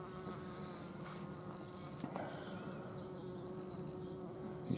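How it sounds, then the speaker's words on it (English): Bees buzz steadily around a red oriental poppy flower outdoors, a soft continuous drone with faint ambient hiss and no talking. "And there's two bees in there, is there?"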